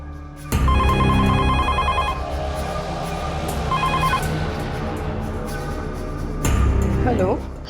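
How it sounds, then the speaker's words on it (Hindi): A household telephone rings in two bell-like bursts, loud and close, over a dramatic indoor scene with voices and background sound swelling around it. "माँ, कितना टाइम लगा रही है फ़ोन उठाने में?"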